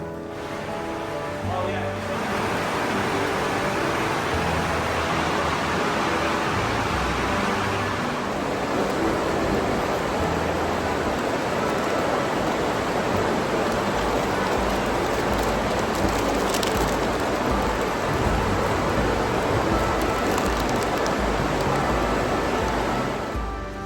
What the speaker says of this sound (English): see if this rain passes us by